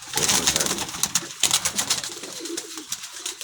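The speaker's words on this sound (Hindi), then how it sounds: "नीली नीली कबूतरी आपको दिखाते हैं।" Highflyer pigeons at a pigeon club coo close by, repeated soft throaty calls in quick uneven bursts over a light background rustle.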